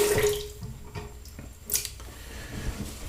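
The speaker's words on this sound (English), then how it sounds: "I, for example, always rinse my face between passes." Water splashes close by as a face is rinsed between shaving passes, with irregular wet slaps and trickles over a running tap, moderately loud with no talking.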